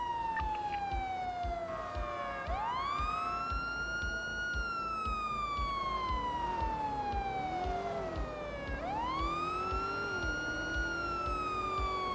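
A police car siren in a video game wails loudly and close, sweeping slowly up and down in long rising and falling cycles that restart twice, with engine rumble underneath and no talking.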